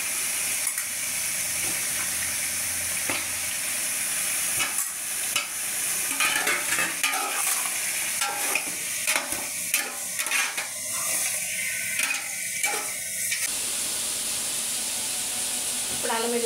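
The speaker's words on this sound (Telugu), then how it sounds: "ఇప్పుడు చికెన్ కూడా ఇందులో వేసేస్తున్నాం." Chicken sizzles in a pan with onion, tomato, green chillies and spices while a spoon scrapes and stirs in repeated strokes, with some clatter and a faint background voice.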